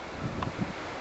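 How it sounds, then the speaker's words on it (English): Strong wind during a heavy snow blizzard, a steady broadband roar with a few soft low gusts buffeting the microphone, continuous and fairly faint. "It's so windy"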